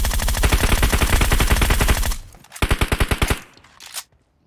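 Rapid automatic gunfire from the video game PUBG Mobile rattles loudly in a long sustained burst, then a shorter second burst and a final single shot before silence.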